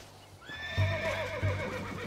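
A horse in the video game Red Dead Redemption gives a drawn-out whinny with rising and falling pitch, close and clear, with a couple of hoof thuds underneath.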